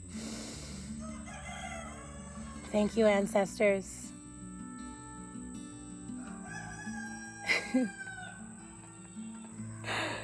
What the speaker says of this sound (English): The roosters haven't been talking all day, and of course now they want to sing.